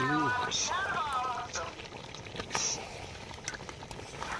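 Duck meat and potatoes sautéed together in a pan with a little oil: a soft, bubbling sizzle with small crackles, partly under a voice talking at the start.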